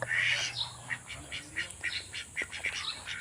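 Ducks quacking on a countryside farm, a steady series of short, raspy calls repeating every fraction of a second, fairly close and loud, with no voices.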